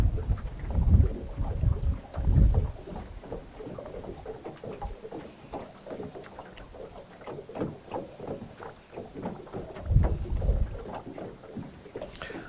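Wind gusting across a microphone outdoors during float fishing, producing rough low rumbling buffets that swell several times over a steady background hiss. No voices are heard.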